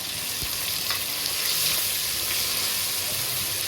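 Tempering oil with dried red chili, panch phoron, chopped tomato and ginger paste sizzling in a pan, a loud, close, continuous fry with crackles and a few stirring knocks, no talking.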